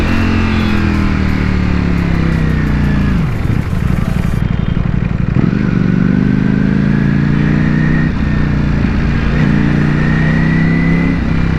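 A Ducati Panigale V4 sport bike's engine runs loud and steady throughout, with several rising revs and gear-change dips as the bike pulls through traffic.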